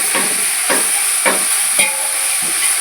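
Onions sautéing in a pan for chicken biryani, with a steady hiss and a series of periodic scraping stirs about every half second, close and moderately loud with no talking.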